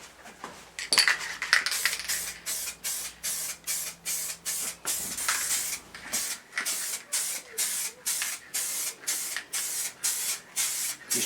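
A car part is spray painted in a garage with rapid, evenly spaced hissing bursts that repeat rhythmically. Someone speaks quietly in the background early on.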